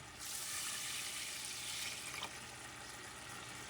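Water poured from a cup into a pot of white rice on high heat, a steady splashing rush that begins abruptly and runs a couple of seconds before settling into a quieter trickle, close and fairly faint.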